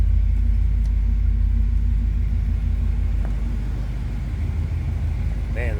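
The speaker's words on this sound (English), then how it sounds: "Man, this car sounds nice." A 1972 Oldsmobile Hurst/Olds Indy 500 Pace Car with a numbers-matching 455 engine runs at a steady idle, a deep, loud rumble that holds continuously throughout.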